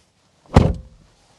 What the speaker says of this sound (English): Now closing up the door